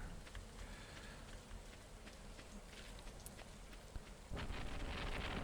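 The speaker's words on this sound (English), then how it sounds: "Oh yes, bring on the lightning." Thunderstorm in the farming video game Stardew Valley, with steady heavy rain hissing throughout and a louder surge of rain or rumbling thunder near the end.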